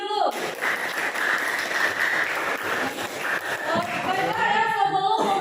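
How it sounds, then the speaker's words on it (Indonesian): Students in a classroom clap together in a burst of applause that starts sharply, holds steady for a few seconds, then fades as voices talk over the end. "Oke, bagus. Tepuk tangan dulu."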